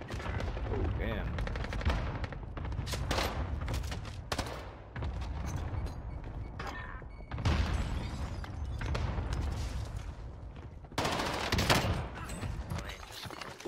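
Rapid bursts of Sten submachine gun fire in Call of Duty Warzone on Fortune's Keep, loud repeated volleys with brief pauses between them, no voices over the shooting.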